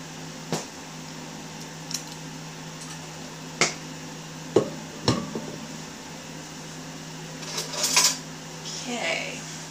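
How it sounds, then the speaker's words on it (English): A spoon is picked up in a kitchen, with scattered sharp metallic clinks of cutlery and dishes over a steady appliance hum, ending in a cluster of rattling taps. "Let me grab a spoon."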